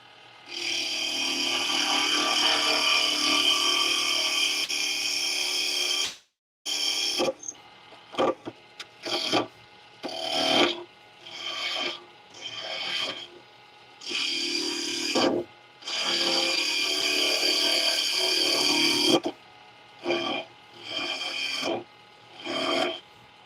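A bowl gouge cuts wood on a spinning lathe, giving a loud, steady scraping roar in long passes broken by short pauses and shorter bursts as the tool is lifted and reapplied.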